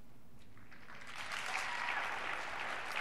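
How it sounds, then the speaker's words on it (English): An audience at the 2020 CPAC conference bursts into applause, the clapping swelling after the first second into a dense, sustained wash of many hands heard from within the hall. "No. Don't clap."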